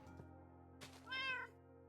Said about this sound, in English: What should we name the cat?